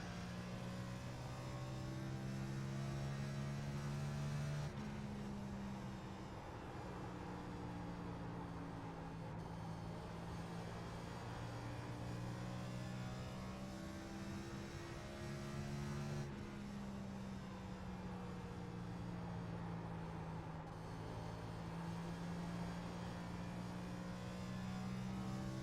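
Simulated NASCAR Cup car in iRacing on the Iowa oval, with a steady droning V8 engine note that rises and falls smoothly through laps with throttle changes, loud and continuous with no talk.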